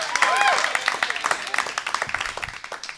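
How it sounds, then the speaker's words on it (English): A comedy club audience applauds as the next comic is brought up, brisk crowd clapping that thins into distinct individual claps while a host talks over it. "Please keep those hands clapping right now"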